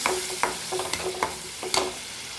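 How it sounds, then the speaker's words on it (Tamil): Tomatoes sautéing in a pan for chana masala, a continuous close sizzle broken by quick, regular scraping strokes of a spoon, clear and alone. "தக்காளி தக்காளி வதங்கி போடணும் போட்டு நல்லா வதக்கணும்"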